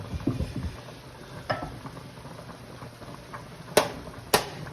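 A spoon stirs spaghetti in a pot of water, producing close, soft scraping and swishing over a steady low hiss, with two sharp metallic clinks toward the end.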